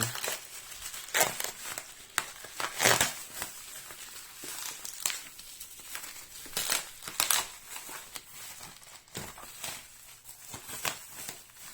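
Bubble wrap packaging around a comic being handled, irregular bursts of crinkling and crackling plastic, close and fairly quiet, with short pauses between rustles.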